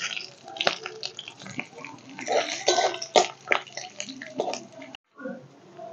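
Panch phoron spices hit hot oil already holding dried red chilli and bay leaf for a vegetable moong dal, crackling and spitting in irregular close bursts for several seconds before briefly cutting out.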